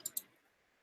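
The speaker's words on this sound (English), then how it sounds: "when you click on the GitHub" Two quick, faint clicks of a computer mouse selecting a link, close together at the start, then near silence.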